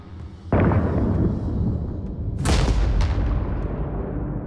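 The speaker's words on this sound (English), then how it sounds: "Artillery units moved into position and opened fire, launching shells and mortar rounds onto the hillside in a thunderous bombardment." A battlefield bombardment of artillery shells and mortar rounds: a heavy boom strikes, then rolling rumble, then a second, louder blast with crackling debris, deep and thunderous throughout.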